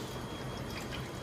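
A soft, continuous pouring of liquid, faint and steady with a light watery texture throughout, as pandan leaf juice is poured into a bowl with water.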